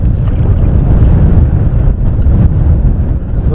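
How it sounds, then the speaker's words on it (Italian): Strong wind roars across Lake Coghinas during a fishing outing, a loud, steady low buffeting that fills the whole stretch with no one speaking. "perché il vento è veramente forte."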